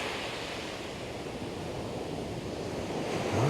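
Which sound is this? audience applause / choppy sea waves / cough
choppy sea waves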